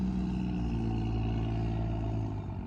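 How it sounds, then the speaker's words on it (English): Cars passing on a road outside a house, heard as a steady low rumble and engine hum without any other sounds. "if you hear cars"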